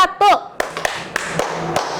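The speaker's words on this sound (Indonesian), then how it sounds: "Kalau Ibu bilang tepuk 1, iramanya seperti ini, harus kompak ya." A teacher claps out a short classroom rhythm, a few sharp, close claps in an uneven pattern, just after a brief vocal sound.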